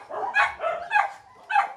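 Dogs barking at a kennel for ornamental breeds such as Huskies, Goldens and Corgis, three short close bursts of barks and yips in quick succession.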